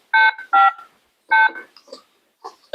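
Telephone keypad tones from a phone being dialed at home, a handful of short electronic beeps in uneven bursts with brief gaps, fairly loud and close, with no talking over them.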